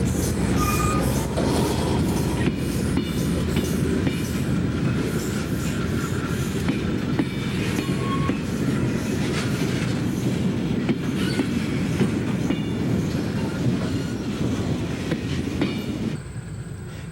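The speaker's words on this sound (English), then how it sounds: "Two 840 CWs arrive with a train at the Blacksville No. 2 mine." Monongahela Railway freight train led by two 840 CW diesel locomotives arriving at a coal mine, loud and close, with a steady rumble, rhythmic clickety-clack of wheels over rail joints and occasional squeals, continuous throughout.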